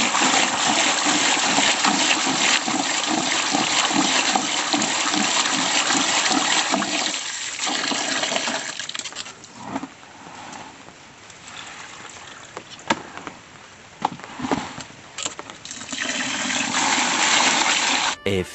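Sand is washed in water, with heavy, continuous sloshing and gushing as the water pours out, then softer splashes and clicks, and loud pouring again at the end.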